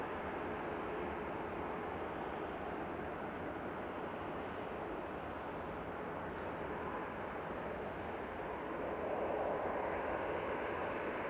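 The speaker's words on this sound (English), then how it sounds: "It's a 737-800 going to Lanzarote" A TUI Boeing 737-800 airliner at a snowy Manchester Airport gives a steady, loud broadband jet roar that fills the whole stretch, swelling slightly toward the end, with no talk over it.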